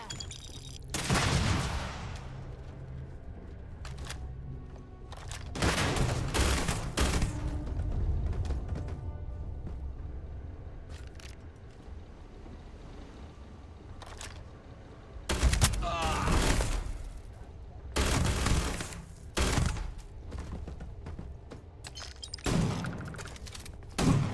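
A volley of gunfire comes in several loud bursts of rapid shots separated by quieter stretches, with heavy thumping reports and rattling between volleys.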